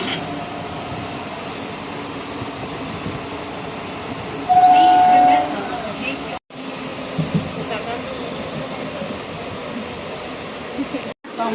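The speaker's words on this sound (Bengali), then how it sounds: "আমাদের ট্রেন ছেড়ে দিয়েছে" A passenger train rolling along the line, steady rumble and rail noise throughout with a brief whistle-like tone partway, people talking over the running carriage.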